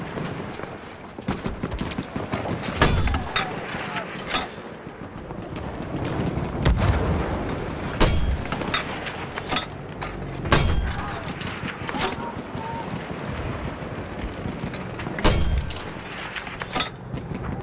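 Mortar and gunfire explosions in a Battlefield game, a long run of sharp booms and cracks at irregular intervals, some loud and close, with a voice speaking between them.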